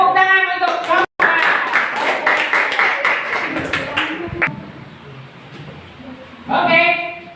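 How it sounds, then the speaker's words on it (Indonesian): A classroom at SMK Nurul Huda Jannatun in Cirebon claps for a teacher: a few seconds of scattered, close hand claps follow a voice, then fade into murmur before speech resumes. "tepuk tangan untuk Bapak."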